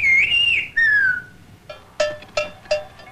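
Shepherd whistling the name Federico in a whistled language: clear, piercing tonal whistles, a couple of long gliding notes followed by three short sharp chirping syllables, alone and close.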